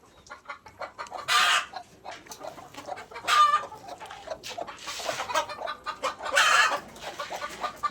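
Elba chickens cluck on a farm, a run of short soft clucks with several louder bursts of squawking, close by and without talk.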